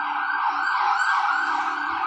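A fire engine siren passes outside, a continuous wailing tone rising and falling slowly, fairly loud and steady with nothing else audible.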